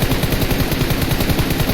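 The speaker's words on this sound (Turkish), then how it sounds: "Birden fazla silah sesi duydum." Rapid bursts of gunfire in a shooter video game, a fast rattling string of shots like an automatic weapon spray, loud and close with no talk over it.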